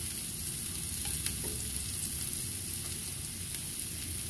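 Food for a traditional gallina pinta dish made without hen, with garlic, tomato, onion and chile, sautés in a pan, giving a steady, close hiss of sizzling with no voices.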